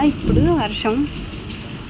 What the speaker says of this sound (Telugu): వర్షం అయితే పడుతుందన్నమాట